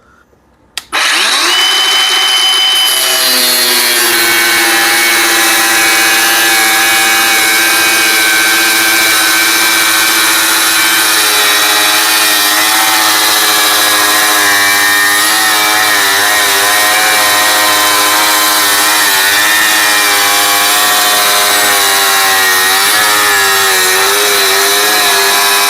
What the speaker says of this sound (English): Right now I'm cutting along this line right here.